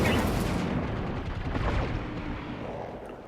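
Mech weapons unleash an alpha strike in the BattleTech video game, a dense roaring barrage of gunfire and explosions that starts loud and slowly fades over a few seconds.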